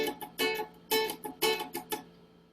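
Acoustic guitar strummed in a play-and-mute rhythm, bright chord strokes alternating with damped percussive mutes in a steady fast pattern, close and alone.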